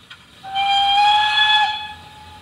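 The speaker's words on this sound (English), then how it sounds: "there's a short brake whistle" A short brake whistle from the sound package of an Accurascale GWR Manor model locomotive gives one steady, shrill, reedy tone lasting about a second, clear and close with no talking.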